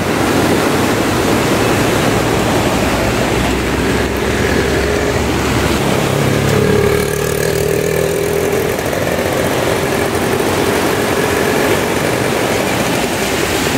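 Floodwater of a swollen river in the Konkan rushes beneath a bridge during heavy monsoon rain, a loud, steady roar that never lets up across the whole stretch, with no voices over it.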